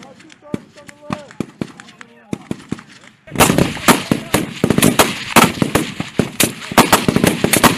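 Gunfire crackles through a military drill, starting as scattered sharp shots, then after about three seconds becoming a dense, loud barrage of overlapping rifle and machine-gun bursts, with faint shouted commands mixed underneath.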